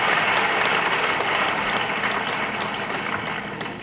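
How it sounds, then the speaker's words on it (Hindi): An assembled audience at a religious discourse breaks into dense, loud applause, a sustained roar of many hands that fades slightly toward the end. "रविवार के दिन बीच बीच में तालियों की गड़गड़ाहट होना चाहिए।"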